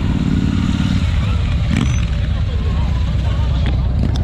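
Loud, rumbling motorcycle engines at a custom motorcycle meetup at Los Condes Kustom, a deep continuous idle and rev filling the scene, with voices talking underneath.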